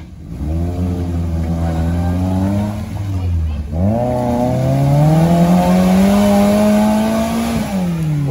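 A modified off-road car with a 16-valve 1.8-litre Lada X-Ray engine revs hard and loud, rising and dipping in pitch, briefly cutting out near the middle before climbing again to a sustained high rev.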